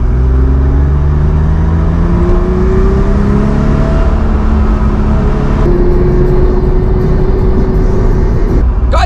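A car engine accelerates hard and steadily, a loud continuous drone whose rising pitch holds for several seconds before easing, with no talk over it.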